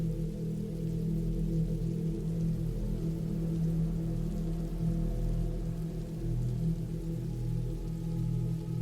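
Steady rain falls without pause, a dense low-pitched wash and patter on a surface, holding even and continuous throughout with no voices and no thunder.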